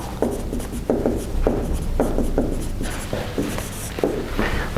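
Chalk or marker strokes on a board during a university signal-processing lecture, a steady run of scratchy, rhythmic writing bursts close by, with no talking.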